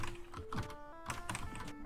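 Fast keystrokes on a computer keyboard, a run of crisp clicks and clacks at close range with uneven rhythm, faintly layered over a tonal backdrop and without any talk.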